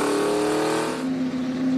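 Drag car in a wheel standing competition revving loudly and steadily, a heavy engine roar close by with rising tone near the end, no voices.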